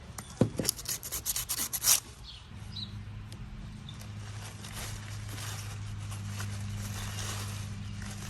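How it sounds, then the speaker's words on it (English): Scraping old gasket residue off an EGR valve on a third-generation Camaro, heard as a burst of close, rapid rasping strokes for about two seconds before settling into a steady low hum. "You're gonna scrape that gasket off."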